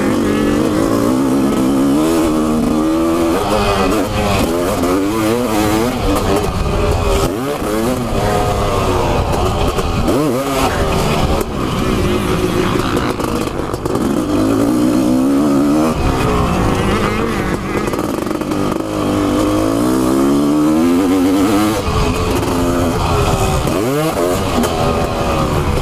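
A Honda CR500 two-stroke motorcycle ridden hard, its engine snarling loud and close without letup, pitch rising and falling through throttle changes and shifts for the whole stretch.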